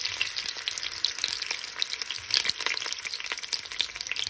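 Bay leaves and a cinnamon stick sizzle steadily in hot oil for chicken biryani, a continuous crackling fry with scattered pops, close and moderately loud with no talking.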